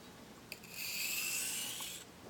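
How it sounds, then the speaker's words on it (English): A single slow honing stroke of a blade on a 400 grit hone: a close, smooth rasping rub lasting about a second and a half, preceded by a faint tap. "I'm just going to do a couple of starter strokes just to see what effect this hone has on the edge"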